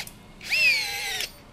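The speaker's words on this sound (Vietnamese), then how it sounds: "Đấy, bắt vít nhẹ nhẹ như này thôi." A small cordless drill drives a screw in one short, close burst, its motor whining up to speed and holding steady for under a second before stopping.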